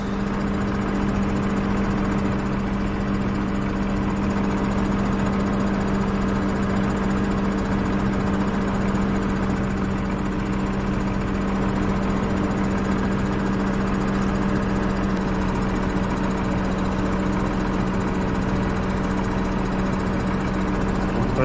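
A tractor engine drones steadily and loudly while plowing a meadow for sowing winter wheat, a continuous close mechanical hum with a strong low tone and no break throughout.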